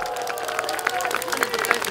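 Faint applause and scattered clapping ripple from a concert audience for a couple of seconds, distant and under a low murmur of voices.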